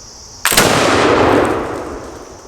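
A blunderbuss fires shot and wads at clay targets outdoors: one sharp, loud blast followed by a long, rolling echo that fades over about two seconds.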